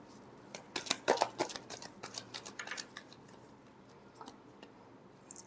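Tarot cards being shuffled by hand, a run of crisp soft riffling clicks and flutters up close, busiest early and then thinning to a few scattered taps, with no voice.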